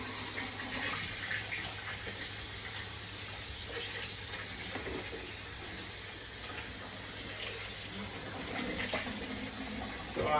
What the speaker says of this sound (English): I'm just going to go ahead and simply rinse my rice